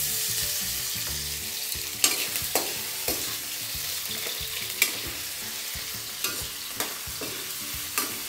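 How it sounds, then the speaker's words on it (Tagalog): Potatoes fry in hot oil for a cabbage and potato omelette, giving a steady loud sizzle broken by periodic scraping stirs, close up with no voices. "kaya natin pinirito agad yung patatas para lumambot na ito"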